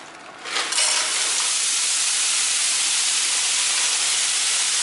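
Cauliflower rice dumped into a hot nonstick pan sets off a sudden loud, steady sizzle and hiss after a brief quiet start, continuing strongly throughout.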